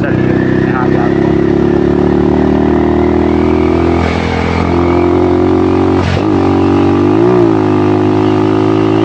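A modified TVS Apache RTR 160 motorcycle hums along at a steady cruising pitch, its engine drone holding close and constant with slight pitch shifts, while a rider talks over it.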